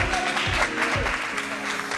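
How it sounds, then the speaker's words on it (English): Audience clapping at a networking event, a short burst of loud mixed claps with crowd murmur under it, fairly close and continuous. "clap it up again"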